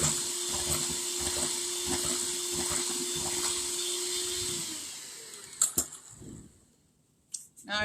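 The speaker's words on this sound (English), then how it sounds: "Blend that real good." An electric mixer blends apple pound cake batter in a home kitchen, a steady whirring motor hum for about five seconds, then it stops and a few clunks and knocks follow.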